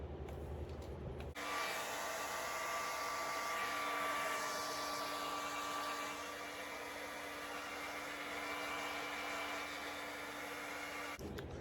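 A Revlon hair dryer blows on high heat over a quick weave, a steady close whirring roar that starts abruptly after a moment and runs unbroken for about ten seconds before cutting off, with no talk.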